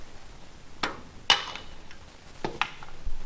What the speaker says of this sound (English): We need that hammer right there, Colton.